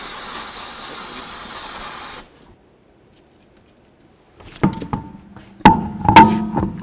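Aerosol brake cleaner sprays in a steady hiss for about two seconds onto a 2006-2012 Ford Fusion rear brake caliper to clear off brake fluid. After a short silence come a few sharp metallic knocks and clanks from working on the car.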